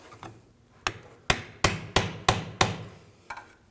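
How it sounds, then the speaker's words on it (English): A pry bar knocks repeatedly on a rear CV axle to break it free from the differential of a 2007-2013 BMW 328i 3.0L L6: about seven close metallic taps, some faint, most strong in a quick steady run. "I'm just going to take a pry bar. Give it a tap, just try to break it free from the differential."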